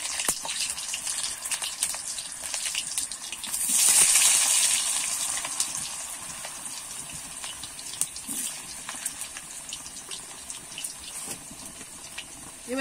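Washed, cut potatoes drop into oil with deep-fried onions. A loud sizzling hiss swells as they go in, then settles into steady crackling frying that continues, with faint clinks.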